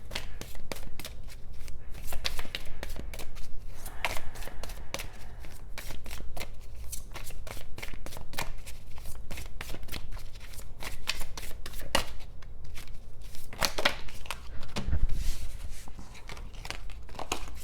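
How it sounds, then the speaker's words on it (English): Tarot cards being shuffled close by in quick, steady riffling bursts with papery flutters and crisp snaps, running unbroken throughout with only a faint voice now and then. "I want to pull one more card for you, Virgo."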